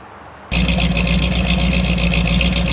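A rusty Ford Bronco engine turns over and catches, then settles into a steady, loud idle with a low rumbling throb and rattling ticks, close by with no talk.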